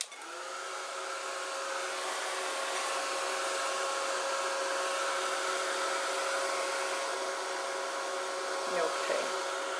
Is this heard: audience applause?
no